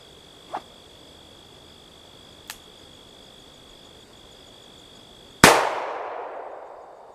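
A single .44 Magnum shot at targets, one sharp loud blast with a long decaying ring, preceded by two faint small clicks in otherwise quiet surroundings.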